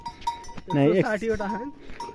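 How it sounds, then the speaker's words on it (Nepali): A goat herd of about 120 animals in a Nepali village gives out a loud wavering bleat near the middle. Softer animal sounds and faint clanks come before and after it. "अनि हेर्नुहोस् बाख्रा मजाले हेर्नुहोस् 120वटा बाख्रा"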